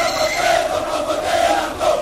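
A large crowd at a presidential campaign rally in Kindu, Maniema province, Democratic Republic of the Congo, cheers and chants in a sustained, fairly loud roar with no clear individual voices.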